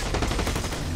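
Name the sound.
minigun gunfire from a video game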